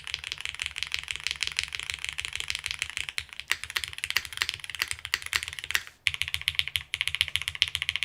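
Rapid, continuous clacking of mechanical keyboard keys, close and crisp, with a couple of brief pauses in the rhythm.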